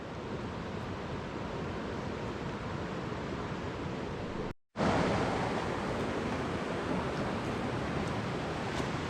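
Steady, dense roar of dark, peaty river water churning through wild Scottish land, loud and close, with a brief dropout midway before the churning resumes.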